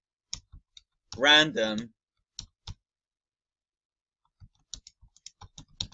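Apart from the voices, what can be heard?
typing on a computer keyboard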